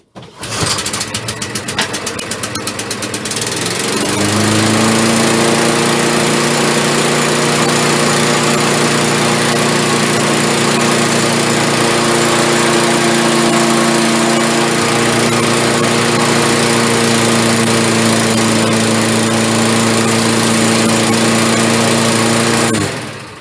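A Honda GV100 lawn mower engine starts after a brief rattle and then runs loud and steady, with a constant close drone that continues throughout.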